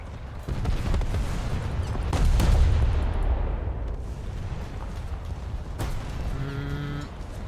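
Naval gunfire from a light cruiser in the War Thunder game booms repeatedly, with deep heavy blasts and a loud rumbling roll in the middle, then quieter distant thuds and a brief tonal horn-like sound near the end.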